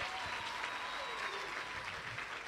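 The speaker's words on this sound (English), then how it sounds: "big clap to this gentleman?" Wedding guests clap steadily for a gentleman, a dense, sustained round of applause filling the room with faint crowd murmur beneath.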